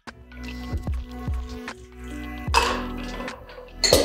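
Shaken Äppler Sour cocktail strained onto ice cubes, a wet liquid pour with soft drips and a crackling splash of ice near the end, heard close and alone over a faint musical background.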